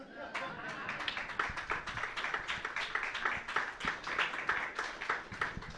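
Faint, sparse clapping from a small café audience at a dueling-poets improv show, a scatter of individual claps running under ongoing talk.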